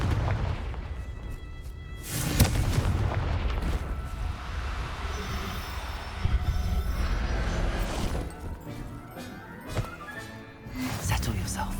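A Confringo fire spell exploding in the Hogwarts Legacy video game, with booming blasts and bursts rising over a dense rumbling battle din, followed by a voice speaking.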